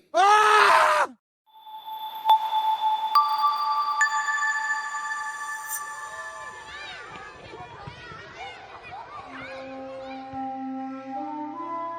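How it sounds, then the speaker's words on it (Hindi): A person screams in fear on the deck of a ship at sea, one loud, piercing cry at the start, followed by quieter tonal calls and drawn-out sounds. "अचानक डेक पर डर से किसी की चीख निकल गई।"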